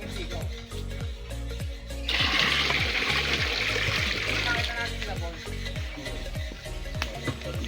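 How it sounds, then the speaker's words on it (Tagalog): Rushing water from a deep hand-dug well surges in after a couple of seconds and keeps gushing steadily, layered over a low rhythmic mechanical thumping from a nearby motor pump. "Ito na, dito lalabas yung tubig."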